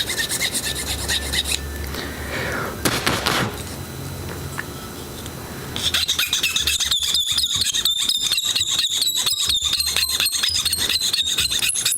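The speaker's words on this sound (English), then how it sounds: "This guy's got squeaky legs." Repeated squeaking and rasping from the plastic legs of an MG Advanced Hazel Gundam model kit as the joints are flexed, close and fairly quiet, with a rapid series of short scraping squeaks in the second half.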